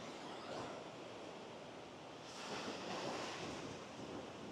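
Ocean waves at Hermosa Beach washing against the concrete pillars of the pier, a continuous surging wash with a louder swell midway, heard with wind buffeting the microphone and no voices.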